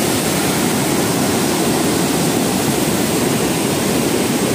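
The Godavari river in flood after heavy rain in Nashik district, its water rushing past a submerged bridge: a loud, steady, broadband roar of torrent that holds constant from start to finish, with no voices.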